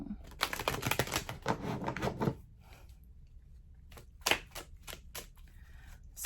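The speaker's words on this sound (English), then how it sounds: "I'm going to shuffle these in." Tarot cards shuffled by hand, crisp riffling bursts in quick rapid clusters close to the microphone, a pause, then another short run of flicks.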